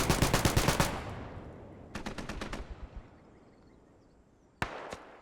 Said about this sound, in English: M60 opening up